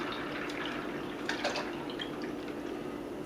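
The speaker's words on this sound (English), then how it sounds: "This is 6 cups of my ham broth that I'm going to pour in here." Ham broth, six cups of it, pours into a cooking pot for bean soup, a soft steady splashing and trickling stream heard faintly and close by, with no talking.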